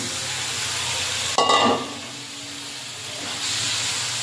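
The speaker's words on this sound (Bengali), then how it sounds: "এবারে সেদ্ধ করে আলুটা দিয়ে দেবো" Boiled potatoes tumble into a pan of sizzling chicken curry, a sudden clatter followed by steady frying hiss and stirring, close and alone without talk.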